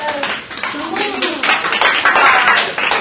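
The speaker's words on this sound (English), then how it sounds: "let me give you an applause" Children clapping together at a school gathering, a steady burst of applause lasting a few seconds, with some voices mixed in beneath the claps.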